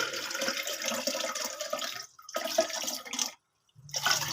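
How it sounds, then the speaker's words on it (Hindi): Water poured into a juicer jar, two spells of splashing, rushing liquid separated by a brief pause, followed by silence and a faint low hum. "जूसर में हम 2 कप पानी ऐड करेंगे।"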